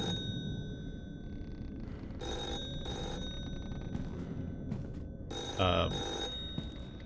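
A telephone rings in bursts inside a horror video game's nightmare house, a bright bell-like trill repeating several times in short clusters over steady game ambience, loud and close.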